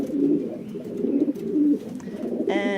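Homing pigeons in a loft on a hot day give soft, repeated low cooing close by, several overlapping coos that roll on steadily before a brighter tonal squeak near the end.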